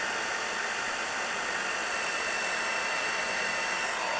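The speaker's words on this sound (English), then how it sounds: "I'm just going to heat set that." A heat tool blows with a steady, loud, hissing roar, heat setting the stamped image on a spinner card. The sound stays constant throughout with no speech.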